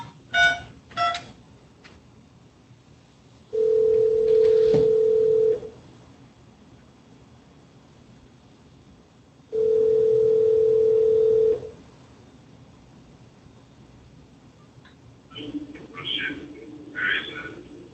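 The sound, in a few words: telephone dial tone and ringing while placing a call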